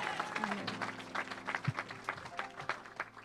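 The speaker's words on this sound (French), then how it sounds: "May we applaud for the word of God." A church congregation applauds the word of God with scattered, uneven hand claps over a low murmur of voices and sustained background tones.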